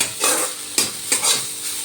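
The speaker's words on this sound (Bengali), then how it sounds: "গাজরগুলো আমি একটু ভালো করে ভাজা ভাজা করে নেব" Grated carrots fry and sizzle in a pan for carrot payesh while a spoon scrapes and stirs them in several quick, close strokes over a steady hiss.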